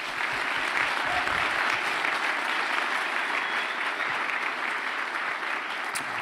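Steady, loud applause from a seated audience at an Air Force ROTC change of command ceremony, a dense even clapping that holds throughout with no break.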